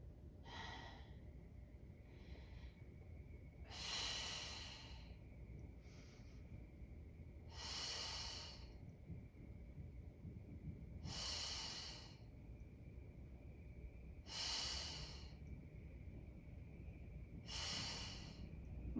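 Steady breathing during a Pilates mat exercise, with five or six long, airy exhalations at roughly three-second intervals between quieter inhales, close and fairly soft over a low room hum, with no talking.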